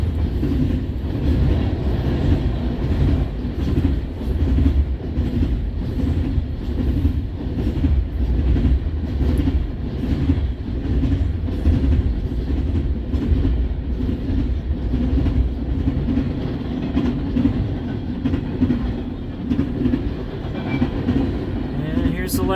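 A CN freight train, the M302, rolls past with an ET44 locomotive as distributed power, a steady loud rumble of wheels and railcars with faint clickety-clack throughout.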